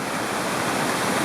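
Water running down a hillside after being drawn off a small homemade dam for a DIY Pelton water wheel, a steady, close, broadband rushing with no voices.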